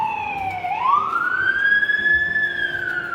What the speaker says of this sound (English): The reality of New York, sirens are always going off.